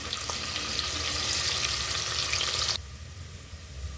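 Two large onions fry in oil in a pan, a loud dense sizzle that drops sharply in intensity near the end, close up with no talking.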